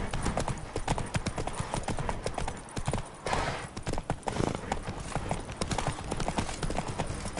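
Horse hooves gallop in a steady, driving clip-clop rhythm during a ride in The Witcher 3 Blood and Wine DLC, loud and continuous with game sound and faint voices mixed in.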